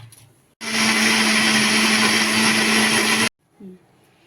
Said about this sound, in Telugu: ఇప్పుడు దీంట్లో కొంచెం వాటర్ వేసేసి మిక్సీ వేసేసుకుందాం